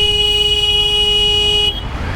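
A loud, steady horn honk from a Triumph Tiger 850 Sport motorcycle held for almost two seconds, then cut off, leaving road and engine noise.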